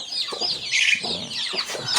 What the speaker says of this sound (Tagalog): Roosters.